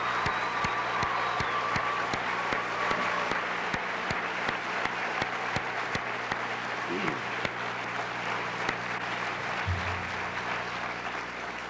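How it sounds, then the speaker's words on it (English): An audience at a West High event gives sustained applause for eight returning legends, dense clapping that holds steady throughout, with a few voices murmuring beneath it. "Let's give them a big round of applause."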